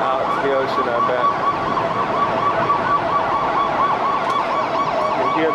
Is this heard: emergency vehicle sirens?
yes